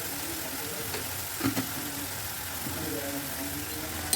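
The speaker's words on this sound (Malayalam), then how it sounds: "മുളക് പൊടിയുടെ ആ പച്ച ചുവന്നായിട്ട് മാറുന്നത് വരെ നന്നായിട്ടൊന്ന് വഴറ്റി കൊടുക്കണം" Chili powder being sautéed in a pan for a sardine curry, with a steady low sizzle and a few soft stirring scrapes against the pan at moderate distance.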